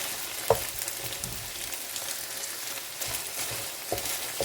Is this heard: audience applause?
no